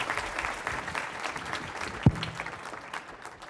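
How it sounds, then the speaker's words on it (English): Audience applause at a Hispanic conference keynote, a steady wash of clapping from a hall crowd lasting the whole stretch, moderately loud with one sharper knock near the middle. "Give her a round of applause, please."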